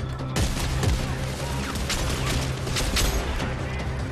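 Gunfire and crashing impacts from the Dead Space 3 video game, a dense, continuous barrage of rapid shots and smashes close up, with brief spoken exclamations mixed in.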